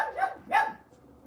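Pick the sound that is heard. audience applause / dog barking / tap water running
dog barking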